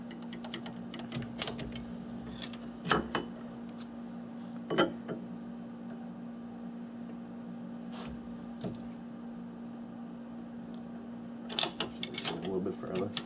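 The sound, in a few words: lathe carriage being cranked along the bed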